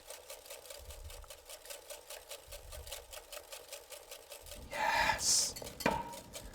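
Eggs are whisked in a bowl while organic extra virgin olive oil is drizzled in for rosemary-apple cornbread batter, giving a quiet, fast, rhythmic scraping that ends in a few louder clinks of the whisk.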